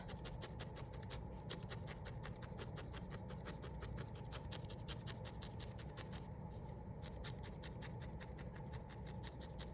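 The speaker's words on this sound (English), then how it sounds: "we're just going to needle felt this in a little bit" A felting needle jabs repeatedly into wool on a small penguin keychain, a fast, steady run of faint scratchy pokes going on without pause.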